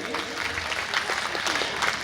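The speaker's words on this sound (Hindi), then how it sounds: "आप सभी जोर से ताली बजाइए।" Audience applause at an inaugural ceremony of a Gita festival, with steady, dense clapping from a crowd that continues evenly throughout, moderately loud and slightly distant.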